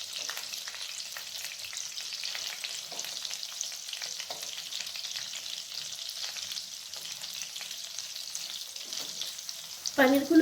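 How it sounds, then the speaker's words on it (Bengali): Paneer frying lightly in oil and butter in a pan while the pieces are turned over, a continuous close crackling sizzle with faint scraping, ending in a short louder clatter. "পনিরের দুপাশটা উল্টে পাল্টে হালকা করে ভেজে নিচ্ছি।"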